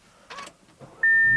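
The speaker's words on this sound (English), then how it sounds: "You can see the little 7-inch Audi MMI display will pop right up" A 2019 Audi RS3's 7-inch MMI display screen motors up from the dash as the engine starts, with a short whir followed by a steady electronic tone and low rumble near the cabin.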